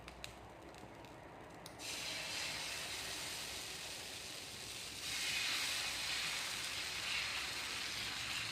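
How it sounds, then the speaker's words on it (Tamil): Herb dosa batter made with balloon vine greens is poured onto a hot griddle stone, setting off a sudden broad hiss that swells louder partway through and keeps going steadily. "தோசை ஊற்றலாம்."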